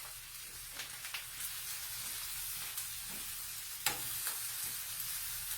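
Liver frying in a pan, a steady close sizzle with occasional stirring scrapes and clicks, no voices.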